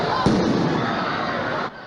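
Fireworks set off by teenagers at Bayside Marketplace in Miami on New Year's Day, a dense, continuous crackle and rumble with a crowd in the background, and no clear individual bangs.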